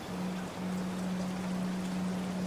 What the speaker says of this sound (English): The rain outside falls in rhythm with your breathing.